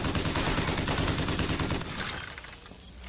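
Dense rapid weapon fire from Bioshock Infinite hammers loudly in an unbroken volley, then trails off into a softer rattle and ambient game noise.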